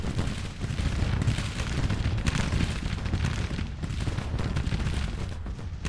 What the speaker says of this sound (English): They are already firing.